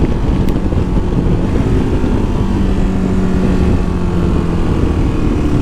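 A 2023 KTM 1290 Super Adventure S motorcycle on the move, a loud steady engine drone with heavy low rumble and wind roar, constant throughout with no speech.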